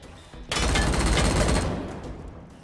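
Sudden burst of rapid automatic gunfire in the video game Wasteland 3, a loud continuous rattle of shots starting abruptly after a brief quiet moment and tapering off over two seconds.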